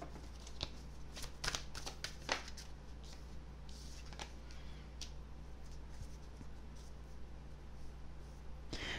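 Tarot cards are shuffled by hand in a quiet room, with repeated papery riffles and flicks over a low steady hum. No one speaks.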